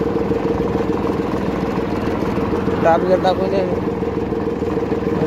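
A tractor engine runs loudly and steadily at close range, a dense rumbling drone, with someone speaking briefly over it midway.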